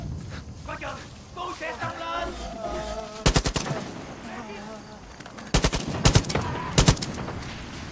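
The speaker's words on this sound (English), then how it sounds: "Who's shooting?" Bursts of automatic gunfire in Far Cry 5 crack out in two clusters, a short volley midway and a louder, longer string of shots near the end, with talk running underneath.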